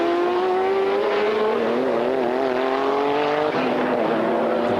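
GT race cars, a pack of McLarens at Jerez circuit, high engines screaming at full throttle as they chase, pitch climbing and shifting through gears with one car's note dropping away near the end, loud and close.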